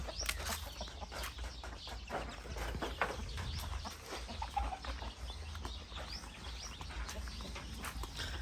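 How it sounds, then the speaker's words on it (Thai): Chickens on a Thai family farm with a rooster among them, scattered clucks and bird calls close by over a steady low rumble of outdoor background noise, with faint wing flutters. "อันนี้พ่อไก่นะครับ"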